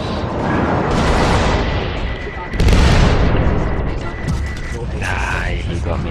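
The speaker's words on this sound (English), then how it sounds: "This guy and his bloody missiles." Missiles slam into a ship in the space combat game Star Citizen, a sustained rumbling barrage with a heavy booming impact midway, followed by mechanical whirs and tonal alarm-like sweeps.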